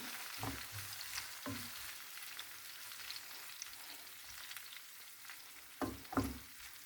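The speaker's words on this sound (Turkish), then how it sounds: "Biberlerimi şöyle bir karıştırayım." Peppers frying in a pan on a lowered stove flame, a soft steady sizzle with a few louder stirring scrapes and clatters near the start and end.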